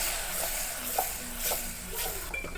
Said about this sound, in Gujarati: અત્યારે હલાવી નાખીએ આપણે.